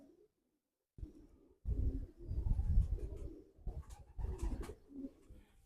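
Pigeons cooing in a loft, soft low throaty coos repeating in uneven bursts after a quiet start, close by with faint rustling between calls.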